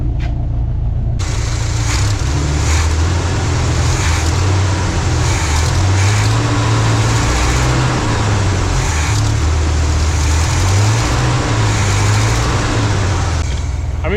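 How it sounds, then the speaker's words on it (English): A 1992 Chevy C10 pickup engine idles steadily after sitting for 33 years, a continuous low rumble with slight fluctuations in pitch, heard close and loud with no talking. "for sitting since 1992, I think it's running surprisingly well"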